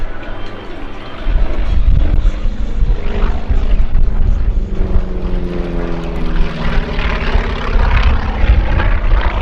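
A propeller warbird makes a low pass at the EAA AirVenture Oshkosh airshow, its engine drone steady and loud throughout and swelling slightly as it passes, with no talk over it.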